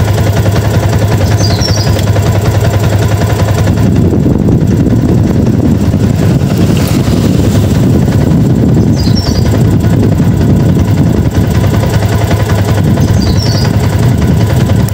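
A Yamaha Vixion motorcycle engine idles with its battery removed, a loud, steady, close rattling thrum that grows rougher and busier after the first few seconds, with no talk.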